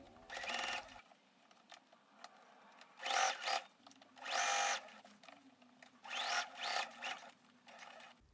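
A sewing machine sewing a quilted jacket runs in several short bursts, each a few seconds of close whirring stitching separated by quiet pauses with faint handling noise.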